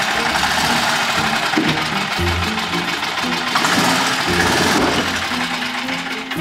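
A restored golf cart's small engine rattles and hums steadily at close range, its pitch wavering slightly as it runs on without pause.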